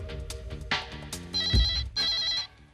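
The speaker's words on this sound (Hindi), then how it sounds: "शायद मेरे डायरेक्ट लाइन पर कोई फोन आया है।" A telephone on a direct line rings in a tense office scene, sounding as a bright electronic bell with repeated ringing bursts that stop abruptly near the end, with no one speaking.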